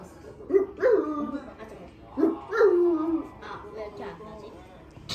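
A person imitates a dog with short yelping, whimpering vocal sounds, two clear bursts close to the mic with breathy voice between.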